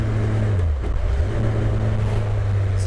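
MK Indy RR kit car with a Hayabusa engine rounding a roundabout, its steady engine drone holding close and fairly loud with a slight dip in pitch partway through.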